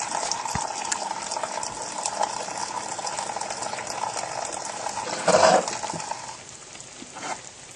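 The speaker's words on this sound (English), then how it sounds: "you can tell it's kind of already starting to bubble" Water and rice bubble and hiss steadily in a pan, with a brief louder gurgle partway through.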